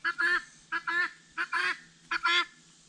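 Four loud, harsh honking calls from guinea fowl, each a quick two-part burst, repeating at a steady pace with short pauses between.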